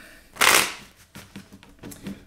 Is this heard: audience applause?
no